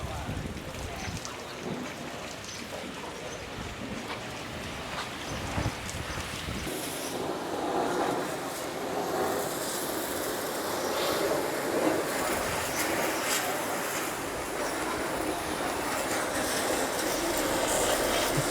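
A high-pressure water sprayer blasts caked mud off the tracks of an M42A1 tank, a continuous loud hissing spray with shifting intensity, close and steady throughout, with no speech.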